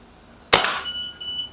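A single sharp Kral Pro 500 air rifle shot goes off at close range, a loud crack that decays quickly, followed by a faint ringing tone.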